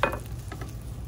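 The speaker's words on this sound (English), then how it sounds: "you can hear our sausage kind of sizzling over here" Sausage sizzles in a frying pan, giving a soft crackling hiss with a brief scrape or stir at the start, close up and moderately quiet with no voices.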